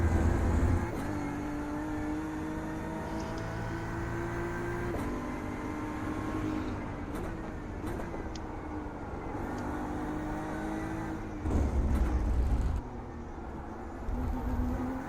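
Race car engines in the iRacing sim at Road Atlanta with LMP2 prototypes, a droning engine note that rises in pitch through repeated gear shifts, with passing cars and brief louder surges, no talk.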